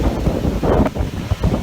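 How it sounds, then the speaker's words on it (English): Strong wind roars and buffets a microphone outdoors in Southern California during a night of wildfires and power shutoffs, a loud, steady rushing noise with gusty surges and no voices. "you can hear the wind"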